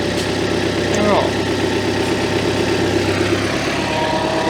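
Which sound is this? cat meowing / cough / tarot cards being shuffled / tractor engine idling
tractor engine idling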